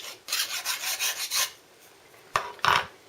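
Metal file rasping along the freshly sawn edges of a candle holder to clear burrs, a close run of steady back-and-forth strokes, a pause, then two short sharp strokes.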